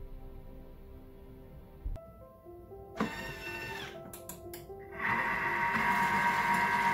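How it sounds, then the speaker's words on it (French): Thermomix blending spices and oils for about three seconds at speed 3, a short whirring mechanical burst that builds and ends in a louder steady churn, after earlier light clicks and taps in a quiet kitchen. "On va mixer 3 secondes, vitesse 3."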